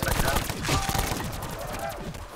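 Rapid gunfire bursts in the video game Call of Duty Black Ops 4, close and loud, with overlapping shots and clattering effects over a couple of seconds.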